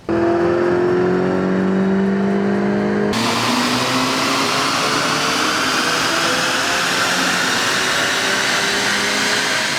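VW MK8 GTI with the stock airbox running on a dyno, a loud continuous engine roar that rises in pitch, then jumps to a harsher, broader rush partway through, no voices.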